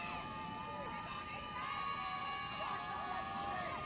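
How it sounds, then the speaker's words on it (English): Crowd of Minnesota Vixen fans cheering at a women's football game against the Wisconsin Dragons, a broad distant roar with whistles and shouts holding steady throughout. "Can you hear the Vixen fans cheering loudly?"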